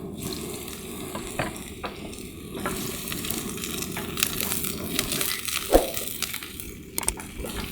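Chopped onion and garlic sizzle and crackle in a hot pan while being stirred, a steady close frying hiss with scraping stirs and occasional louder pops.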